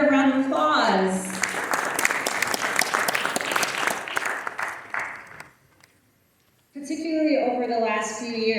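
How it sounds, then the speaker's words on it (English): Audience applause at a Diwali celebration hosted by the Queens Borough President: a few seconds of dense, steady clapping that fades to near silence, with a speaker's voice before and after it. "Let's give them another round of applause."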